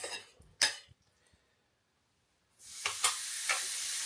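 Ghee hitting a hot grill, with a couple of sharp metallic clinks early on, a quiet gap, then a steady broadband sizzle rising and holding to the end, close and fairly loud.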